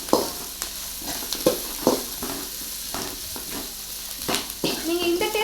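Carrots, onion and beans being stir-fried in a pan for cauliflower Manchurian, with a soft steady sizzle and occasional scraping clinks of a spatula stirring, close up and moderately loud.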